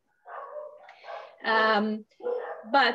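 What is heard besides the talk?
dogs barking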